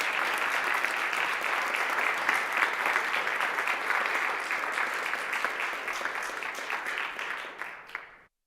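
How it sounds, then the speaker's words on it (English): A room of people in a state assembly chamber clap together in warm, even applause that holds steady for several seconds, then thins and cuts off abruptly. "Let's give them a round of applause."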